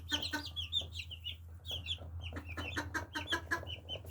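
Silkie and Japanese bantam chicks cheep and cluck together nearby, with busy high peeps scattered across the whole stretch over a low steady hum.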